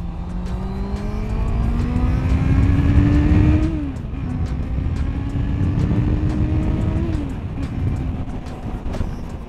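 A motorcycle cruising on the highway at about 60 to 70 mph, steady engine drone with wind roar, rising in pitch then dropping twice as gears shift, close and loud with no talking.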